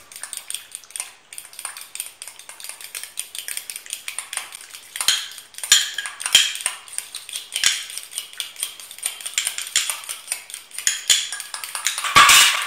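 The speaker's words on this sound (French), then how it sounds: "Et je vais la mélanger avec de la crème liquide pour avoir une consistance un peu facilement, qui s'étale facilement." Garlic herb cheese spread is stirred into liquid cream in a bowl, giving repeated scraping and clicking utensil strokes that grow louder and busier midway, with a sharp knock near the end.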